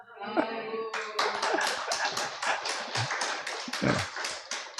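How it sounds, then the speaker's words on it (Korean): Church congregation applauding the pastor: a burst of many hands clapping breaks out after a few spoken words and carries on steadily and fairly loudly for several seconds. "박수 나왔으니까 그만해야죠"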